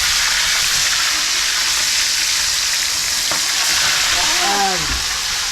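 Fish fry in hot oil with a loud, steady, dense sizzle that fills the whole clip, close by, with a few faint clinks of a utensil near the end.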